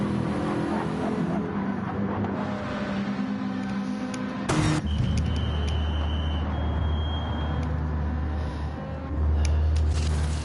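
A damaged BMW M6 race car enters the pit lane during the Petit Le Mans two-hour endurance race. A loud, steady engine drone with a low rumble is broken by a sharp, brief burst midway, and the car stays close throughout.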